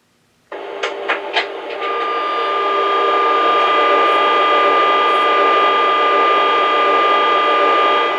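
An MTH O scale 3-rail TRAXX F140 AC electric locomotive model powers up with three quick clicks, then a loud steady electric hum and whine that settles into a constant drone.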